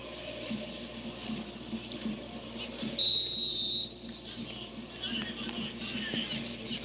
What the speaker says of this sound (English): This time, the whistle goes in favour